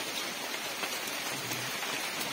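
Heavy rain pours down in a dense, continuous hiss, close and steady throughout with no voices over it.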